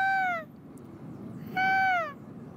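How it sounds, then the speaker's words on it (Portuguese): Great kiskadee (bem-te-vi) calls, two clear, ringing whistled phrases with falling tails, separated by a short gap over a low background hum. "Esse é o bem-te-vi."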